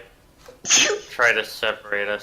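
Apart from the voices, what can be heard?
human sneeze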